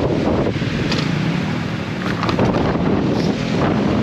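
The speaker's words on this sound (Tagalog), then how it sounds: "Grabe, ang lakas ng hangin." Strong wind buffets the microphone in heavy, rumbling gusts outdoors, a loud continuous roar that swells and dips without any voices.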